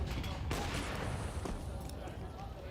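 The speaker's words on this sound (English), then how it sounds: "Shot rings out from Era, connects on Rolfos, blinded." Gunfire during a Counter-Strike match, heard as sharp, noisy shots within a dense, busy game mix, with a caster's voice running over the action.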